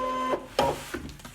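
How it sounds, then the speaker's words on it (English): Brother ScanNCut cutting machine drawing a mat loaded with card inside, a short run of whirring motor steps with a few distinct mechanical clicks and pauses, close and fairly quiet. "I'm going to put the piece of card on my regular ScanNCut mat and I'm going to load it into the machine"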